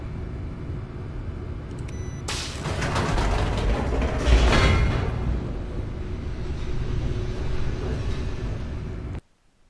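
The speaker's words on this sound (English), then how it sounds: "I guess I have an elevator here." An elevator in the video game The Stanley Parable moves with a low mechanical rumble and creaking hum that swells midway, then cuts off abruptly at the end, with no voices.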